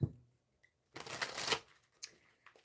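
Quick papery riffling of a slippery tarot deck, a brief burst of shuffling followed by a few soft taps and flicks.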